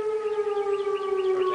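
A tornado siren wails under rotating storm clouds, a loud, steady outdoor tone with clear overtones holding its pitch for the whole stretch, heard alone.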